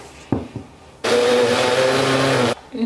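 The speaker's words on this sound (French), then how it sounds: "Nous allons passer le tout au blender dans un verre d'eau" A kitchen blender whirs steadily for about a second and a half, loud and close, blending watermelon and cassava with a glass of water, framed by a few knocks and clatters before and after.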